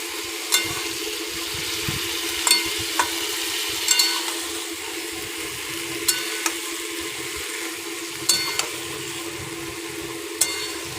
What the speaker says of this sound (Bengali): মাছ দিয়ে দিল আলু সমেত দিয়ে আবার কষানো শুরু হয়েছে